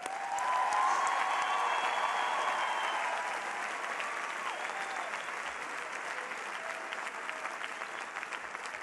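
Sustained applause from a commencement audience at the University of Hartford, honouring graduating students. A dense roar of clapping from a large crowd is loudest in the first few seconds, then eases to a steadier, slightly softer patter.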